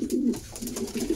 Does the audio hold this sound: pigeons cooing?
yes